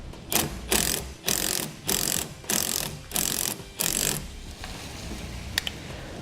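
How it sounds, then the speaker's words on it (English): Ratchet wrench tightening a new nut onto a bolt on the arm of a Roadmaster Falcon 2 towbar: about seven close, loud bursts of rapid clicking in a steady rhythm, then quiet with a faint click. "now we'll tighten down the hardware"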